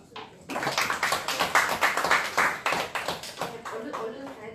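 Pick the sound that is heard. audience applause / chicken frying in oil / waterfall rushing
audience applause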